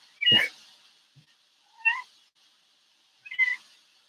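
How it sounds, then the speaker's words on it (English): Three short meows from a cat, spaced about 1.5 seconds apart, close and clear against near silence; the first call is the loudest and fullest. "See the cat, it's like, just can't handle that being close."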